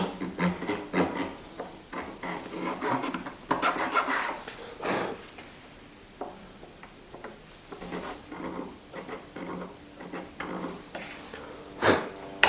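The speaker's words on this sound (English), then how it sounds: "I should be able to file down the bottom of the nut slot" A file cuts down the bottom of a guitar nut slot in quiet, irregular rasping strokes, some in quick runs and others spaced apart, heard close with no talk.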